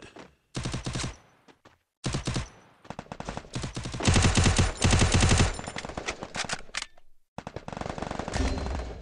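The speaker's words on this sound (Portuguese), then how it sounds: "Um tiro, mano." Gunfire in a shooting video game comes as rapid automatic bursts, loud and close, split by short silent gaps and then resuming in long sustained volleys.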